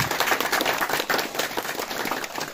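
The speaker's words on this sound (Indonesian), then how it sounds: "Ya, tepuk tangan." A crowd of villagers claps together in a dense, steady burst of applause at an outdoor neighbourhood security-post competition event, sustained and fairly near throughout.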